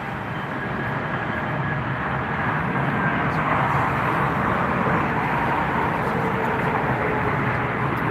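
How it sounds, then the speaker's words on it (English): An EasyJet airliner arriving at Frankfurt Airport makes a steady, broad jet roar that stays moderately loud and constant throughout, heard from a distance with no voices. "EasyJet arriving."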